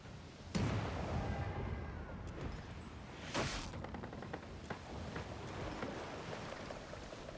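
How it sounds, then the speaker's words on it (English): A few deep booming ship cannon blasts in Pillars of Eternity II: Deadfire, one sharp near shot early and another a few seconds later, over a steady low rumble of game ambience. "Fire port cannons."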